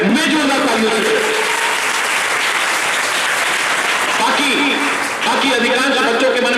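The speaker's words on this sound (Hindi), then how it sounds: "मैं जोरदार तालियों से।" A school audience breaks into loud, sustained applause, dense and even clapping from many hands filling the room for several seconds without pause.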